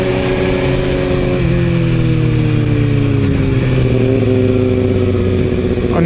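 A motorcycle close by accelerates hard through the gears, its engine note climbing and then dropping at each shift in a loud, continuous run with no talking.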